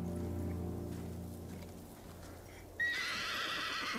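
A horse in the video game Ghost of Tsushima gives a sharp, high whinny near the end, following a low rumbling tone, with no talk.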